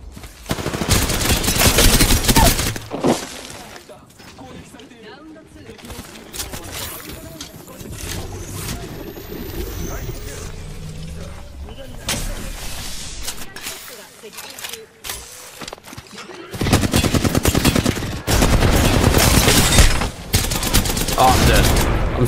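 Bursts of automatic gunfire in the Apex Legends video game, loud volleys at the start and end with quieter shooting and movement between, while a person talks over part of it.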